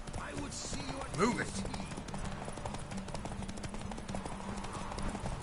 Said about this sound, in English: Ooh, horse race.